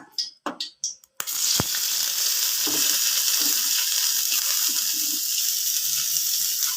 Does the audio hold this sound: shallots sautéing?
yes